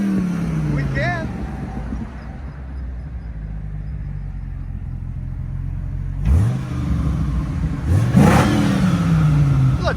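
An American V10 engine, from a lineup of a Ford 6.8L, Dodge 8.0L and SRT 8.3L, rumbles loud and close, with a deep low drone and two sharp revs rising and falling near the end, under some talk.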